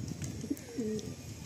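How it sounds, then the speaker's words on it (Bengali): Madrasi pigeons coo softly nearby in a few low, rolling calls, faint and close, with no talking over them. "আসুন রিলিজ করে দেই পায়রাগুলো"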